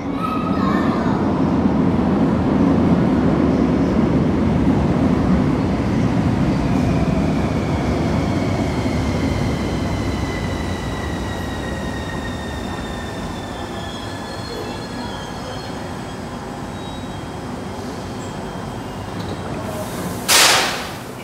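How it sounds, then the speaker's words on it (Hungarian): A metro train pulls into a worn but spacious underground station with a loud rolling roar and thin, drawn-out wheel squeals that ease off as it slows, then a sharp brief hiss near the end. "Akkor beszállunk a metróba, és egy megállót fogunk menni."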